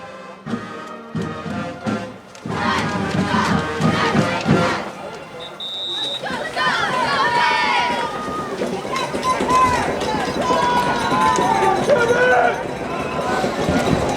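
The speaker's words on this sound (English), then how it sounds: "The crowd is getting extremely loud here at Investors Bank Field." A loud crowd at a high school football state Group 3 final at Investors Bank Field roars and cheers steadily, with a brief lull before the noise swells again and an announcer's voice running over it.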